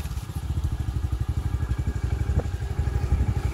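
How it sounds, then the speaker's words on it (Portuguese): A motorcycle engine idles close by on a rural property in Pilõezinhos, Paraíba, throbbing in a steady, loud, rapid pulse with no talking. "Vou subir aqui na moto pra gente seguir."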